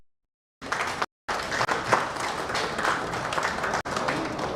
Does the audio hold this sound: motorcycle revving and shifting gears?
no